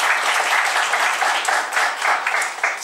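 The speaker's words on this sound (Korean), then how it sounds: "우리 박수로 환영하겠습니다." A Sunday worship congregation at a Korean church claps to welcome a newly registered member, a lively burst of many hands with pulsing rhythm, close and loud, with a voice faintly mixed in.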